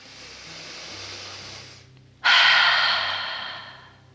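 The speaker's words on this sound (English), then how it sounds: "everyone can take a 2-second break and breathe in" One person draws a long, slow breath in through the nose. It begins as a soft, airy intake and swells into a louder, hissing inhale close to the microphone.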